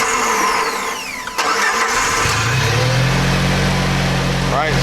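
A Jeep Wrangler TJ engine, just fitted with a new alternator after a dead battery, cranks and catches about midway, then settles into a steady low idle while people talk nearby.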